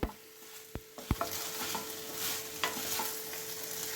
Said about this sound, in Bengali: আমি এইটা একটুখানি ভাজা ভাজা করে নেব।